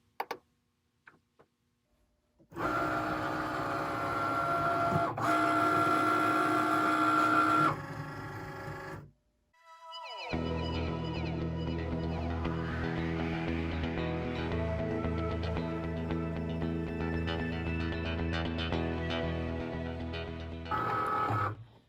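A Cricut cutting machine cuts iron-on vinyl in fast mode, giving a loud, steady mechanical whirring and ticking that runs for several seconds, pauses briefly, then resumes with shifting motor tones until near the end.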